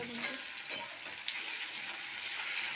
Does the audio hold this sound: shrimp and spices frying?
yes